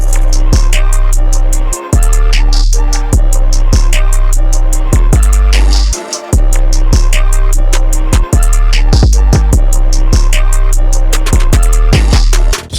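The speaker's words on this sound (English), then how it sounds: "Went kind of crazy on these 808s, but they follow a similar repetitive pattern" Loud, booming 808 bass notes hit in a repetitive pattern under a busy beat, with sustained deep tones and brief drops between phrases.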